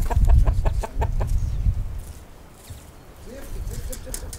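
Hens cluck in a burst of quick repeated calls on a small village farm in Shestaki, Dribin district, Mogilev region, Belarus, then fade into a quieter stretch as a voice talks nearby.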